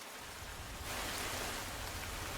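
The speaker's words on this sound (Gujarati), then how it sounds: "એક તરફ વરસાદ ચાલુ છે" Steady rain falls on a street in Ahmedabad's Vejalpur area, a dense, even hiss that swells slightly louder partway through, with no voices.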